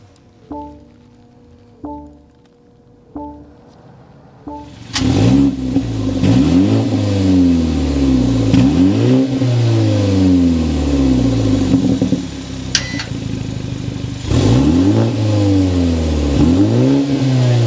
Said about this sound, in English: start up this Turbo 4 so you can hear that exhaust note.